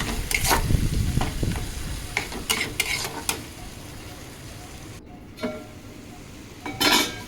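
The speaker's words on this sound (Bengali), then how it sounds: "সামান্য একটু জল দিয়ে ঢাকা দিয়ে মশলাটা ভালোভাবে কষিয়ে নেব" Spice paste with turmeric sizzles in oil in a pan for a fish curry, with bursts of stirring and scraping, a brief lull, then a loud final flare of frying.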